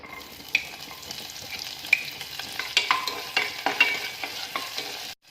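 Ginger, garlic, green chilli and curry leaves fry in coconut oil in a pan, a steady close sizzle broken by sharp crackles and spoon-stirring scrapes throughout.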